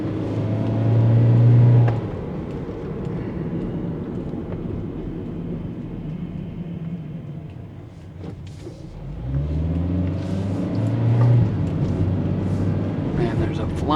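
Car driving and turning through traffic on a food delivery run, producing a steady engine and road rumble with a couple of rising engine tones, heard under someone talking throughout.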